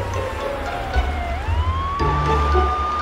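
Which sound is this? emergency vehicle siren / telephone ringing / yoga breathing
emergency vehicle siren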